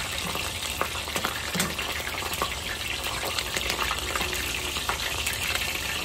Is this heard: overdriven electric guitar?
no